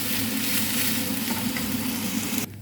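Food sizzles and crackles steadily in hot white cooking oil, a dense close frying hiss that cuts off abruptly near the end.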